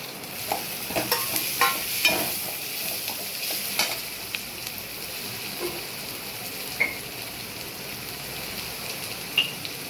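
Tomato sautéing in oil in a pan, a steady sizzle with scattered stirring scrapes and light pops, close and alone without talk.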